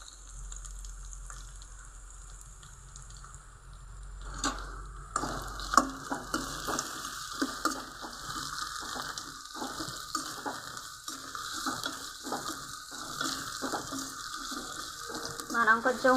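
Mint leaves frying in a pan while making coconut rice, with onions nearby: a steady sizzle that jumps louder after about five seconds as the leaves go in, with scraping stirs and utensil clinks.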